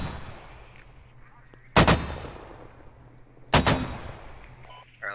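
Two heavy mortar rounds fire a couple of seconds apart in the military shooter game Squad, each a sharp loud boom with a short decaying tail over a low background hum.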